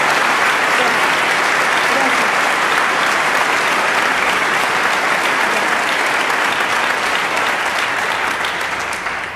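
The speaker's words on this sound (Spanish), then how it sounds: "Gran aplauso para todos." Concert audience applauding steadily and loudly at a Piazzolla centenary performance, a dense continuous wash of many hands that carries on for the whole stretch before tapering slightly at the end.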